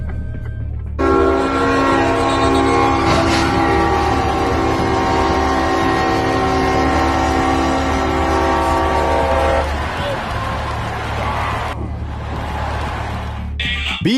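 A train approaches and passes a railroad crossing, sounding a loud, sustained multi-tone horn over heavy rumbling rail noise that continues after the horn stops.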